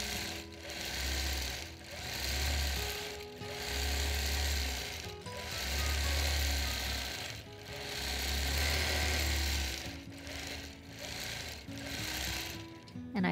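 Sewing machine stitching quilted fans, bursts of rapid mechanical stitching lasting a second or two each, separated by short pauses, close and fairly loud.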